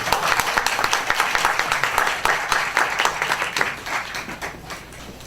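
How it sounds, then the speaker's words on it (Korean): An audience at an academic theology seminar claps in a dense, lively burst of applause that welcomes a lecturer, fading slightly toward the end. "나오실 때 큰 박수로 환영해 주시기 바랍니다"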